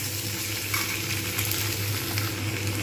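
Tomatoes sizzle in a pan with frying potatoes and onions, a steady close crackle with occasional stirring scrapes for a fish roe fritter curry.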